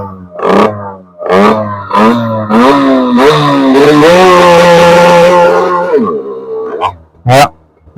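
A voice loudly imitates a stationary motorcycle: a few short blips, then a rising full-throttle roar held for several seconds and dropped off sharply, followed by a couple of brief bursts.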